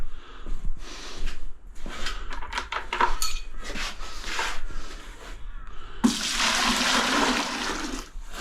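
Water splashes and gushes into a bucket for mixing glue, a loud continuous rush that starts abruptly and fills the last couple of seconds, after a stretch of clattering and handling noises.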